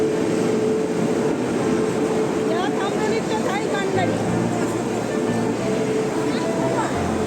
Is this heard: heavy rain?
no